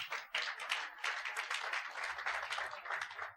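A church congregation applauding in praise of the Lord, a steady, fairly distant wash of many hands clapping that rises and falls slightly, with no talk over it.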